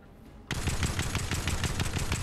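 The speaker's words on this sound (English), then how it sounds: "Now shoot it at like a mountain and see how accurate," An assault rifle in a video game opens fire at a mountain after a brief quiet moment, then keeps up a rapid, sustained burst of evenly spaced shots that stay loud and close.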